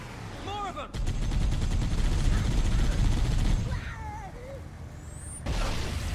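Gunfire in the video game Halo: Combat Evolved, dense rapid bursts of weapon fire rattling continuously for several seconds, mixed with warbling alien weapon effects and pauses.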